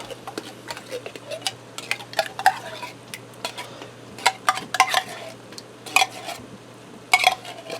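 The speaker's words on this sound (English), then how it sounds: "Now I'm going to stir in a can of cheddar cheese soup." A spoon stirs a 10 3/4-ounce can of cheddar cheese soup into tender potatoes inside a Ninja Speedi one-pot cooker, with scraping clinks and taps against the pot coming in irregular bursts over a steady low hum.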